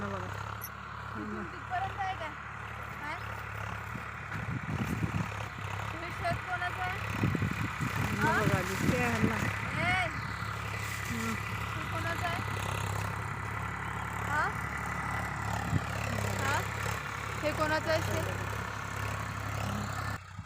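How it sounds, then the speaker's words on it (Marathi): A tractor engine runs at a steady mid-pitched idle on a farm field, constant and moderately close, while people talk over it throughout. "हा ट्रॅक्टर आलेला आहे बघा"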